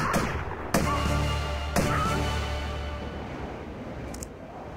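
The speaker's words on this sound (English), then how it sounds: "Twin pistols." Twin pistols fired in Tomb Raider 1 Remastered: two sharp, close gunshots about a second apart, followed by a long reverberant decay, then a faint clicking near the end.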